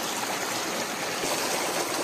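Mountain spring water at Razin village in Waziristan rushes steadily, a dense, continuous, close and fairly loud flowing hiss with no talk.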